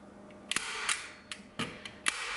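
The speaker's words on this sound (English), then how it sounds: "You just take your staple gun." A staple gun fires staples into wood, giving about five sharp, close clicks at irregular intervals over a steady background hiss.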